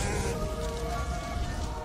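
Heavy rain pours down in a drama scene, a dense continuous hiss and patter with a low rumbling undertone, steady and fairly loud with no voices.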